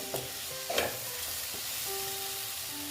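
Spices sizzle softly in a pan, with a few clicks of stirring early on and a steady hiss throughout.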